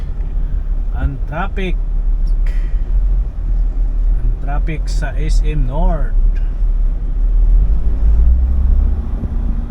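Road traffic near SM North in Manila: a steady low rumble of cars and engines runs throughout, with someone talking over it at close range.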